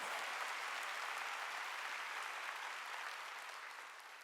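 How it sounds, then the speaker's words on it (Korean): Congregation clapping at a Korean church Wednesday worship service, a steady dense wash of many hands that holds evenly for several seconds before tapering slightly, with no talking over it. "박수 치라 이게야"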